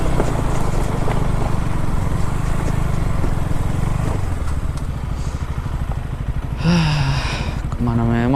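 Motorcycles riding off-road on a rough forest trail, a loud, steady engine drone with rattling and clatter, while voices break in near the end.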